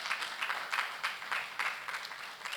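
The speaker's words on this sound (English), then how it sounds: "everybody should give a big round of applause for Ezine" A keynote audience at MMC 4.0 gives a round of applause: dense, fairly loud clapping in rolling surges, with no speech over it.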